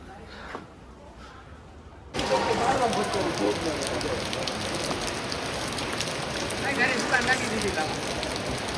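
Heavy monsoon rain pours during flooding in Surat, India, a loud, steady downpour that starts abruptly after a quiet moment and continues unbroken. Water is also entering a shop.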